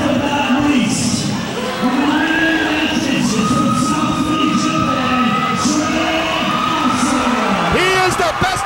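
An arena crowd at a wrestling event cheers and shouts loudly and continuously, with whistles and raised voices rising above a dense roar and an announcer talking over it.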